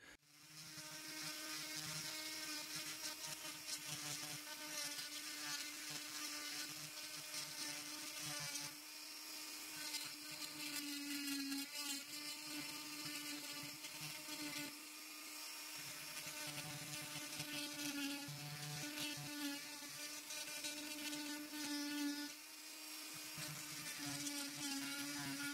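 A maple egg being hollowed out on a woodturning lathe, with a steady, continuous high whine and grinding rasp of the cutting tool that runs throughout at close range, dipping only briefly before resuming.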